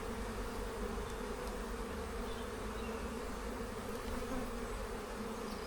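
Honeybees buzzing steadily around an open hive during an inspection of a strong colony, a continuous close drone of many wings holding at a soft, even level throughout.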